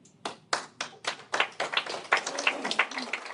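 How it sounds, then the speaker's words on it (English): An event audience at a Dubai hotel claps hands, starting with a few separate, sharp claps that quicken into steady, fairly close applause. "The way you clap as if you don't want me to talk about him"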